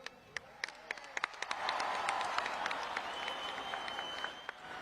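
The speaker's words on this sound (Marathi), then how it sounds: "सलमान भाईचं स्वागत करायचं जोरात टाळ्या वाजवून" A crowd in Thane claps in welcome for Salman Khan at a President Cup tennis event, opening with scattered single claps that swell into sustained, dense applause with faint background voices.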